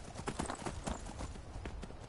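A horse's hooves clip-clop steadily as it is ridden in The Witcher, a fairly quiet, regular drumming of footfalls that keeps an even rhythm throughout.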